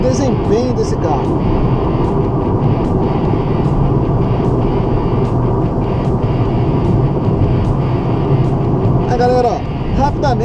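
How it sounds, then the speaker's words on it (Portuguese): A car with a Ford Sigma engine accelerates hard, its loud, continuous engine roar and road noise filling the whole stretch without letting up. "Vou dar uma esticadinha nele aqui agora, para vocês verem o desempenho desse carro"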